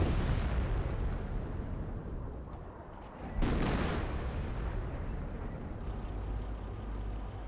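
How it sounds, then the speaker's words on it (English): An artillery barrage rumbles in Company of Heroes, a World War II strategy game: dense, continuous low booms and distant impacts, with one sharper, louder blast partway through. "Looks like just general blind barrage here."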